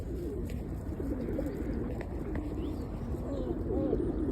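Pigeons cooing after being fed seeds, low soft coos from several birds overlapping under steady outdoor background noise, fairly close by.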